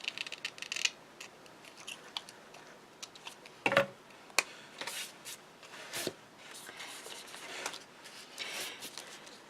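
Scissors snip and trim a paper craft tag cut with dies, giving quiet, scattered clicks and short cutting sounds at close range, with a sharper snip near the middle.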